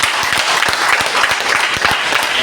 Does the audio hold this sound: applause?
yes